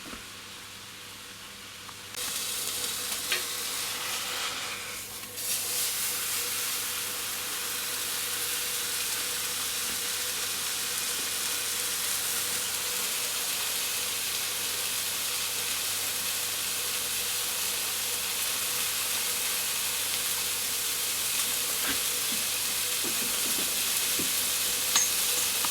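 Beef sizzles and fries steadily in a Ninja Foodi Max pan with no added oil, a loud continuous hiss that steps up after the first seconds and holds throughout, with no talking.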